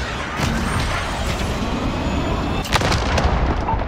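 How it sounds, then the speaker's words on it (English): Cruise missile launch in Call of Duty: Modern Warfare: a loud, close rumbling roar with a sharp blast partway through, sustained heavy noise alone without talk. "Cruise missile, gun to launch. Fire."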